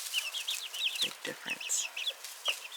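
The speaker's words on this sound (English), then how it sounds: "Man, I wish I knew how many roosters and how many hens there were here." Chickens, both roosters and hens, cluck and chirp in quick overlapping bursts close by, with a few lower throaty clucks mixed in and a brief spoken remark.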